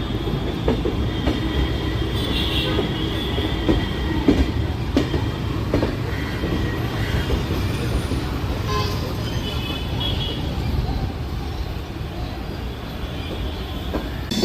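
Velankanni Express rumbling along toward Hubballi Junction, a steady dense roar of wheels and carriage noise with faint rail clatter heard from on board, unbroken for the whole stretch.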